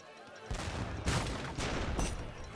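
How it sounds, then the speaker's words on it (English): Musket volleys in the video game Age of Empires 3 crack out in several sharp bursts, three or four loud fusillades in quick succession over battle background. "Fire some rounds there."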